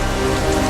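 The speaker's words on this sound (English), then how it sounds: "The rain comes down, the survivors go up." Heavy rain pouring down steadily during an outdoor Survivor endurance challenge in the Maldives, a loud, dense, continuous hiss with no voices.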